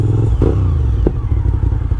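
A low, steady rumble of a car engine idling nearby, with exhaust noise, a brief thump and some clatter partway through.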